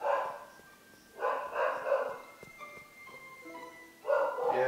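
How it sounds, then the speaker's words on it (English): Dogs bark somewhere downstairs in short, moderately loud bursts, separated by quieter pauses, with tonal background sounds in between and no talking over them. "I sense a lot of barking dogs somewhere downstairs"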